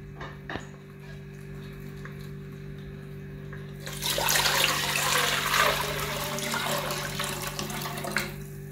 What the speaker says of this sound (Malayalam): മട്ടൺ സ്റ്റോക്ക് അതിലേക്ക് ഒഴിക്കാം.